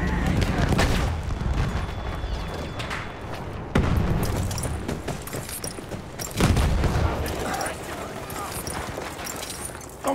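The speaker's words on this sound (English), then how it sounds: "Heads up, grenade out!" Battlefield 1 combat: a grenade blast and rapid gunfire boom repeatedly over a constant roar of battle, with heavy thumps near the start and midway.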